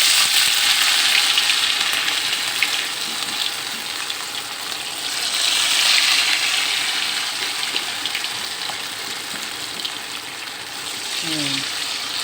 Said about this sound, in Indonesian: Kita celupkan, kita goreng.